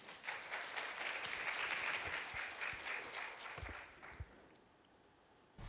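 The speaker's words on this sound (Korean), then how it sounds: "멀리서 오신 우리 미스터 이안한테 박수 부탁드리겠습니다." Audience applause at a Korean pharmaceutical and biologics cold-chain logistics conference session, welcoming a guest presenter to the stage; a broad wash of clapping holds steady for about four seconds, then thins out and fades near the end.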